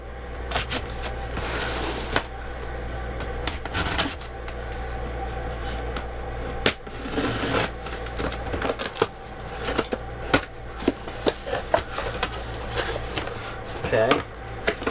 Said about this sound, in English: So let's open these boxes up together and see what we got in here.